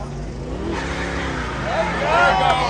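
1969 Dodge Charger R/T SE engine revs hard in first gear with a Sure Grip differential, a loud rising roar that builds toward the end, while excited voices talk over it.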